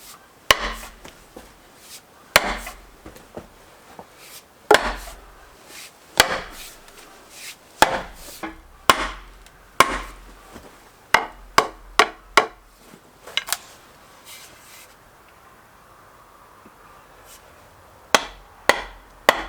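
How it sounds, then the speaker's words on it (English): Axes striking into an ash log to split it along its length, with a large felling axe set in the end and a small axe working the crack: sharp, loud, close impacts in irregular bursts with brief pauses, and no talking. "putting the larger felling axe in the end of the log, continuing inducing a crack along the log with the small axe"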